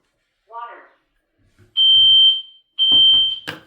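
A Vivint home alarm, set off by water in a basement, gives a few high electronic tones between short bursts of nearby voices.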